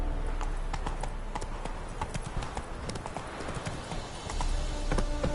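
Horse hooves clip-clop in a steady, fairly close rhythm as the horse is ridden in a video game on PS4, over a continuous ambient game backdrop with no talking.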